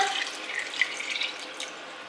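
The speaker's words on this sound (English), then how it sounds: "Then we are also going to add some water." Water pours from a tap into a cooking pan, a steady bright splashing stream that fades slightly, close and alone without voices.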